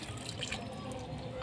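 Water poured onto a potted aloe vera plant, a soft steady splashing and trickling close by, continuous for the whole moment and slightly louder at the end.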